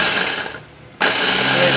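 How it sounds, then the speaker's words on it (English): A Ninja blender grinding something into powder roars loud and close with a dense whirring motor, briefly dipping as it eases off for a moment, then surging straight back to full speed. "I just went ahead and stuck it in my Ninja. So I am gonna grind it up"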